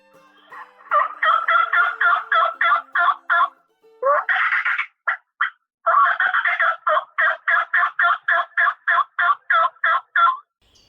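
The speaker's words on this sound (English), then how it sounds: "I think we've got a tom working, Greg" A wild turkey tom gobbles in wooded river bottoms, rapid rattling bursts repeated in long runs with a short pause between, fairly close and clear against a quiet background.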